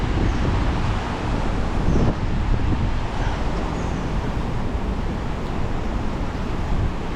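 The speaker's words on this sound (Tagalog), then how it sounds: "Ganda ng hangin dito." Wind blows steadily outdoors beside water at a fishing spot, a broad rushing noise buffeting the microphone throughout, with no speech.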